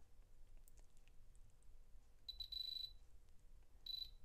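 A diamond tester touched to the metal of a piece of jewelry gives two short bursts of rapid, high electronic beeping, fairly faint against a quiet room with no talking.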